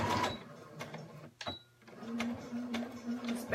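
A home sewing machine back stitching fabric at a quarter-inch seam allowance, a steady close mechanical whirring run that pauses briefly and then resumes in a continuous buzzing stretch.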